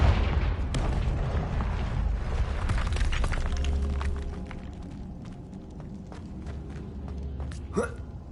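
A Confringo fire spell blasts in Hogwarts Legacy on PS5, a loud booming burst over dense game sound that settles into a steady rumble, with a sharp crackle near the end.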